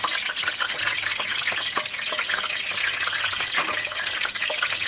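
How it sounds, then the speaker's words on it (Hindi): Two red chillies fry in half a cup of hot cooking oil, giving a continuous close crackling sizzle with scattered pops and spits, with no talk. "सबसे पहले हम इसमें डालेंगे कुकिंग ऑयल हाफ कप, उसके बाद 2 लाल मिर्चें डाल दी"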